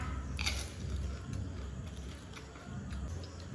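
Close, steady crunching and chewing of crisp food during an eating race, a continuous munching texture with no talk.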